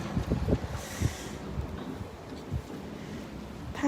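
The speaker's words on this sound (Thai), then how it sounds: "ลม ลม ลมแรงมากค่ะ" Strong, gusty wind buffets the microphone outdoors at a snowy bus stop, a steady low rumble with a few harder gusts over the clip and no talk.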